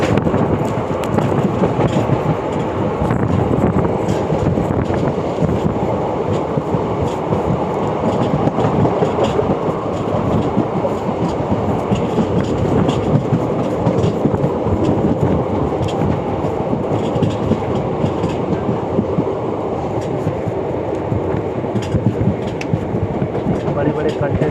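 Ahmedabad–Somnath Intercity Express rumbling steadily along the rails near Sanand in Gujarat, a continuous loud roar of wheels and carriage noise with faint clatter throughout, and a voice talking now and then over it.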